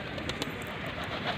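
Pigeons returning to their rooftop loft give a brief burst of soft, close cooing over a steady background rush.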